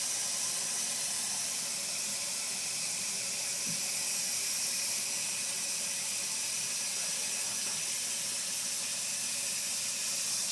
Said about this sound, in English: Shut the sink water off, Brandon.